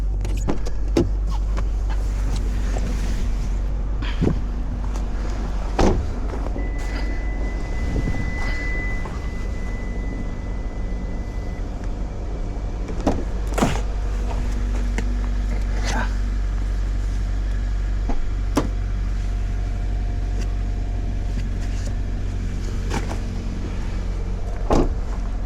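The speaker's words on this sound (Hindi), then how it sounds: "आप गाड़ी स्टार्ट करो, शीशे पे फेंको हवा, ताकि शीशे से हवा निकले।" A car idles with its blower pushing air onto the windshield on a cold winter day, a steady low engine hum and airflow hiss running throughout with occasional clicks and knocks, and someone talks over it.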